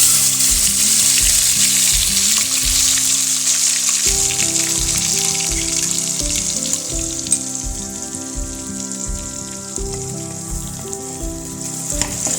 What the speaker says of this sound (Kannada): ಎಣ್ಣೆ ಕಾಯ್ದ ನಂತರ ಇದು ರುಬ್ಬಿಕೊಂಡಿರುವ ಹಸಿ ಮಸಾಲೆಯನ್ನು ಎಣ್ಣೆಗೆ ಹಾಕಬೇಕು